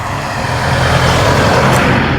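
A car passes close by on a roadside, a loud broad engine and tyre rumble swelling briefly and holding for a couple of seconds.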